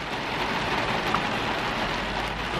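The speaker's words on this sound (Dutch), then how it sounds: "Alleen het regent een beetje, Des." Steady light rain patters continuously on outdoor surfaces, a dense even hiss that holds at the same level throughout with no voices.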